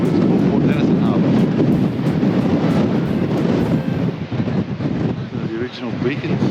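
Strong wind buffets the microphone at Port Denison Harbour, a steady loud roar with gusty rumbling throughout, and a voice speaks over it.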